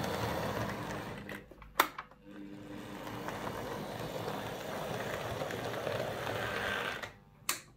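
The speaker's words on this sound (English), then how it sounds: "I had similar problems with my Ivet class locomotive here, and I'll just let you hear this run now." Wrenn Ivatt class model locomotive runs on track with a steady, quiet whirring motor hum and faint rail rattle, broken by a couple of brief clicks, low in level throughout.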